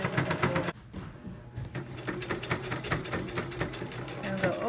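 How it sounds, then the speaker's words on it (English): A sewing machine back stitches through the folded layers of a dress neckline, whirring steadily up close, with one brief pause before it runs again in a continuous buzzing rhythm. "Back stitch to anchor it, and then go forward again, getting all the layers of the fold."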